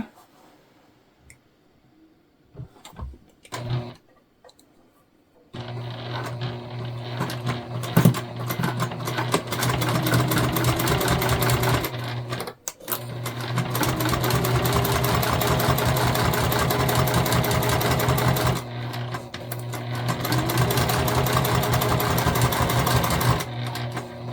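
A sewing machine stitching fabric tote bag pieces together, a rapid steady mechanical whir with a low hum, starting after a few soft handling clicks and briefly pausing midway before resuming.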